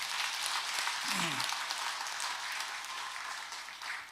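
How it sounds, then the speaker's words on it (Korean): Steady, sustained applause from a sizable church congregation at a Korean children's Sunday service, even and continuous throughout, with a faint voice briefly rising underneath. "뜨거운 박수 올려드리겠습니다."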